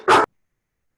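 A dog gives a single short, loud bark close by, then silence follows.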